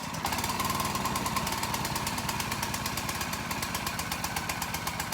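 A rototiller's replacement engine, choke and fuel on, fires on the first pull and runs with a steady rapid knocking chug, close and loud throughout, no voices.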